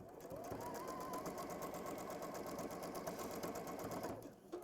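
A sewing machine stitches steadily through two layers of fabric along a seam, a continuous fast mechanical whir that stays loud and even for several seconds before easing off at the end.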